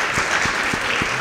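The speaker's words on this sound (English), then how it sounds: "Can we have another round of applause for our panelists?" An in-person audience at a campus debate on social justice and identity politics applauds the panelists, a dense, steady wash of many hands clapping at moderate loudness with no talk over it.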